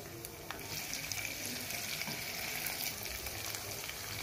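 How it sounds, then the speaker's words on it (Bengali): Onions and dried fish fry together in a pan, a steady broadband sizzle with faint crackles and light stirring throughout, fairly quiet and with no voices. "আমি এখানে একটু পেঁয়াজ অ্যাড করে দিব সাথে।"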